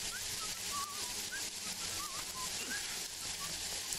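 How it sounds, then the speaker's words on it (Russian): Faint, thin whistled tones drift in brief rising and wavering phrases over a soft, hissy background in the Jagged Alliance 3 game. "Что там свистит?"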